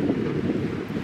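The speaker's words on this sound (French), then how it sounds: "Il y a un peu de vent." Steady winter wind by a Paris canal buffets the microphone with a low, rumbling roar, continuous and fairly loud, with no other sounds.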